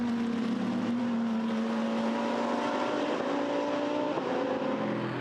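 Blancpain GT Series race cars at Brands Hatch in 2018 run on the circuit towards Clark Curve. Their engines drone loud and steady, and a sustained tonal whine climbs gradually as the cars build speed. No voices are heard.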